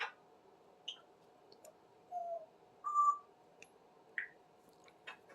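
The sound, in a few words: pet bird Smokey calling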